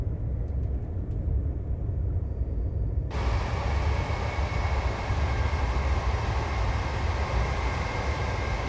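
An LNER Class 800 train running in Train Simulator on the Peterborough to York route, a steady low rumbling drone with a broad roar that rises abruptly partway through and stays loud and continuous.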